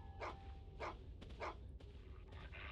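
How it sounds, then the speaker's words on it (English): An Amphithere creature in the video game Carnivores Far North lets out a series of about four short, hoarse barks at a steady pace, fairly faint over a low ambient rumble with some scuffling. "there's the barking, and there are some footsteps."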